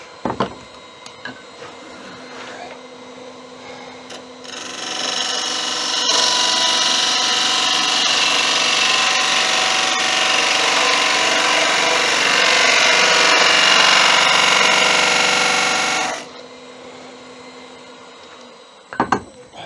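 A wood lathe turns a spalted sycamore tenon for a vase, a steady, loud whirring cut rising abruptly and holding for about twelve seconds before stopping, with quieter handling noises before and after.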